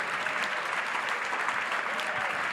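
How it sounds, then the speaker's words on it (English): Audience applause for conference panelists, a steady dense clapping throughout, fairly faint and even with no pauses. "let's give our panelists a big round of applause"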